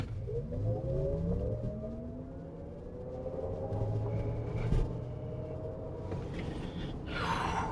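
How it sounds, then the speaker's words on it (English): A Cadillac Escalade IQ electric SUV accelerates hard from 0 to 60, its rising electric whine and tire and road roar swelling steadily inside the cabin, with a brief gasp-like breath near the end. "So we are going to go ahead and see what we can get 0 to 60 with this."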